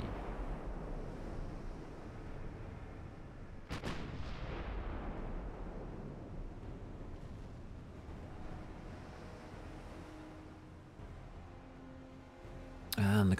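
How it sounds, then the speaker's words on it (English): Heavy 12-inch naval guns firing in the warship game Ultimate Admiral Dreadnoughts: a deep rumbling barrage with one sharp boom near four seconds and a louder blast at the very end, over a constant low roar like wind and sea. "Look at where our 12-inch shots are landing."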